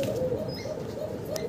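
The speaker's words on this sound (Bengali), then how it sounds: "দর্শক ইউনিক একটা কবুতর দেখতেছেন" A pigeon coos close by in a soft, repeated rhythmic series of low throaty calls, with a faint chirp in the background.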